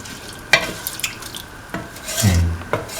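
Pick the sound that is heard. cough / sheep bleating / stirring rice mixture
stirring rice mixture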